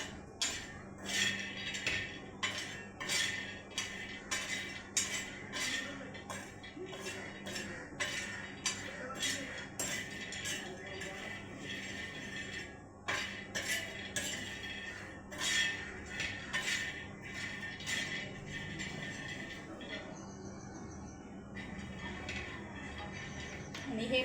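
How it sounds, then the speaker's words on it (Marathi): Peanuts dry-roasting on a hot tava griddle are stirred steadily, giving close, rhythmic metallic scraping and clinking that repeats for the whole stretch with no one speaking. "आणि हे तव्यावर असं एकसारखे पण भाजले जातात खूप छानपैकी।"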